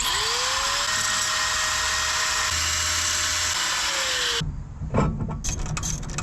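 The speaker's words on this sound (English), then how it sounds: "I'm gonna see if I can grind off the screwed up part and make it good enough for now" Grinder cutting away the damaged threaded end of a wheel stud on a Toyota AE86, a loud steady high whine that sags under load for about four seconds, then stops and leaves scattered clattering.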